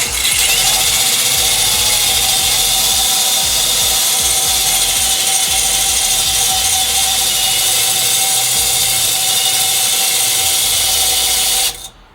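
An abrasive rotary power tool turns in reverse against a radiator neck where a metal overflow outlet tube broke off. It makes a loud, steady grinding whine up close for about twelve seconds, then cuts off abruptly.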